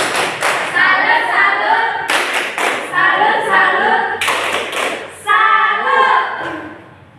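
Children perform the 'tepuk salut' rhythmic clapping in a classroom, loud and close, in several patterned bursts of claps and thumps with voices chanting along between the beats.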